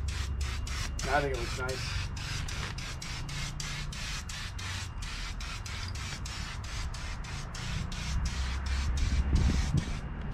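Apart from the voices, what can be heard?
Rust-Oleum Turbo spray paint sprayed on expanded steel trailer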